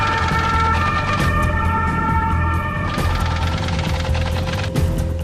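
An ambulance siren wails loudly and continuously with steady high tones, close and dominant, with heavy background noise beneath it in a quarantine transport setting.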